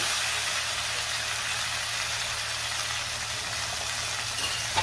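Ground masala paste sizzles steadily in a hot pan after a spoonful of mutton stock goes in, a dense even frying hiss close by with no talk, for a Satara-style mutton rassa.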